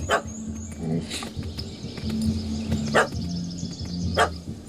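A puppy barks repeatedly in the fantasy video game The Witcher: Hearts of Stone, several sharp yaps spaced a second or so apart over low ambient game music and background murmur.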